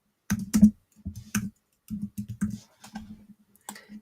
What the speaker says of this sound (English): That's why you're probably hearing a lot of typing.